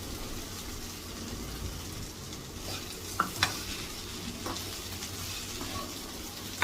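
Okra and boondi frying in a pan while being stirred, a steady sizzle under repeated scraping and a few sharp clinks of a spatula against the pan.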